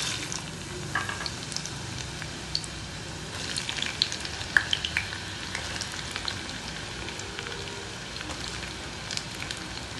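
Carrots and beans fry gently in a pan for a Jain-style mixed vegetable dish, a soft, steady crackle with scattered small pops throughout, fairly quiet and without any voices.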